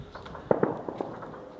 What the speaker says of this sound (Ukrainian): І ця стрілянина це дуже характерно, що власне летить щось, що намагаються збити.